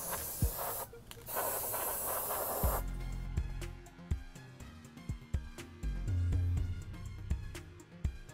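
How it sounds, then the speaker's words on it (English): Rust-Oleum enamel spray paint hisses from an aerosol can in a loud continuous burst of nearly three seconds, then stops, leaving a few scattered knocks and clatters as holes in a grill floor are painted. "I went around and hit all the holes with the Rust-Oleum enamel spray"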